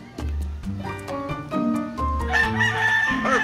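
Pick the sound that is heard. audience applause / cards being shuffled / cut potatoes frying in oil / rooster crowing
rooster crowing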